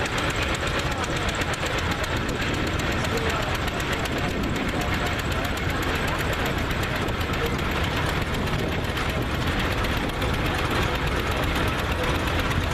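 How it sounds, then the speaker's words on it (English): A 1918 Avery two-cylinder tractor, the smallest two-cylinder model Avery built, chugs along in a parade with a steady, dense engine rumble that stays loud and continuous throughout, with voices faintly mixed into the outdoor noise. "This is the smallest two-cylinder Avery built."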